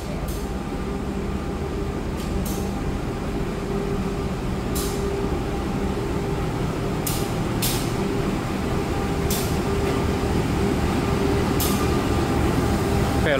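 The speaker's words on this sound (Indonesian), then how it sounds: "lokomotif dinas Fajar Utama Solo pagi ini ternyata CC 204 ya" A CC 204 diesel locomotive hauling the Fajar Utama Solo train gives a steady, loud rumbling drone with rhythmic wheel and joint clicks over the rails, heard from on board and building slightly toward the end.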